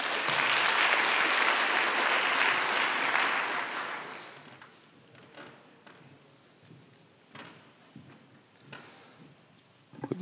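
An audience at a scientific conference keynote applauds loudly for several seconds to welcome the speaker, then the clapping fades into scattered knocks and room noise.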